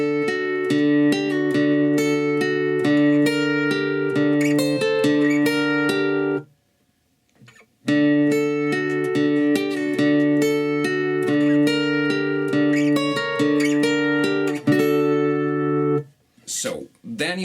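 Acoustic guitar plays the intro riff of a song, picked notes ringing over steady low open strings in two passes with a short gap between them, close and clear with no talking.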